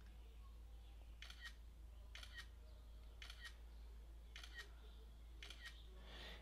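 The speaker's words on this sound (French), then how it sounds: "je vais prendre la première photo" A camera shutter fires five times at roughly one-second intervals, each a quick double click, close and faint over a steady low hum.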